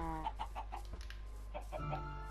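Minecraft chickens clucking in the game, several quick repeated clucks in short bursts with a pause midway, fairly close over a low steady background hum.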